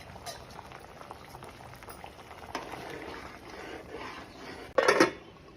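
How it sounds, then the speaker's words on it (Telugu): A colocasia (arbi) tamarind curry simmers at a low bubbling boil, gentle and continuous, with a brief louder clatter of a utensil against the pot near the end. "ఇది చూడండి, ఇట్లా బాయిల్ అవ్వాలి."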